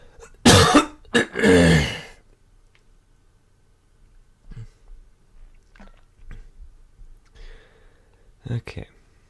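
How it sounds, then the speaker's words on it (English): Two harsh coughs close to the microphone at the start, followed by quieter throat noises and soft clicks during a card game session. "Still have a cough."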